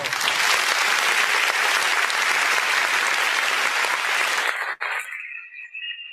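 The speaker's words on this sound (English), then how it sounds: "Please put your hands together for Dara Simi as well." A political campaign audience in Kano claps loudly and continuously, a dense wall of applause that stops abruptly near the end, leaving brief faint scattered sounds.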